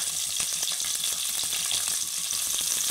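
Green chillies and masala fry steadily in hot oil for a chicken-stock pulao, a dense continuous sizzle with small crackles and occasional stirring, close and alone with no voices.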